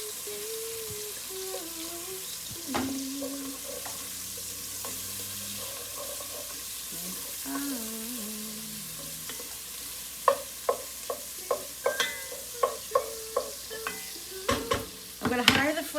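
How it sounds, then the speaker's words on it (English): Steady sizzling of sausages frying in a pan, with a few clinks and scraping taps of a utensil toward the end; faint background music. "see how that's sizzling?"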